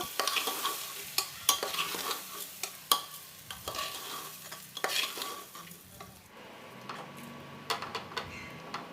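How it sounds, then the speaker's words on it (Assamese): Rice stirred in a pan of hot oil for chicken pulao, a spoon scraping and clacking in sharp irregular strokes over a steady sizzle, close and loud, ending in softer frying. "এইখিনি ভালদৰে লৰাই দিব লাগিব।"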